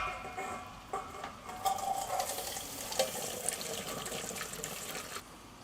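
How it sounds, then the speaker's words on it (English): Braised horse sauce poured through a strainer into another pot, a steady trickling, splashing stream of liquid close by with occasional clinks of the pot, running continuously for several seconds before tapering off. "now we're going to strain the sauce"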